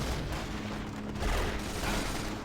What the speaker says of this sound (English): In come their mortars. Wow, they hurt us.